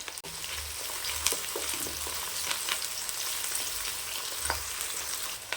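Small and big onions with green chilli frying in oil for a kudal (goat intestine) gravy: a dense, even sizzle close up, with scattered clinks and scrapes of a spoon against the pan, no speech.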